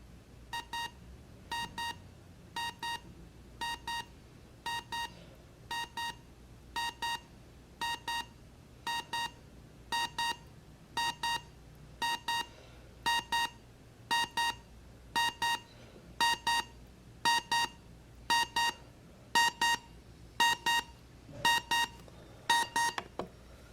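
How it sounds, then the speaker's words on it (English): A hotel room progressive alarm clock beeping in repeated bursts of rapid electronic beeps, the bursts growing louder and closer together as it goes on. "It's a progressive alarm where it gets louder and louder."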